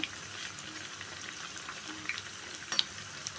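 Chana dal vadas fry in hot oil with a steady, moderately loud bubbling sizzle and occasional faint pops, with no voices.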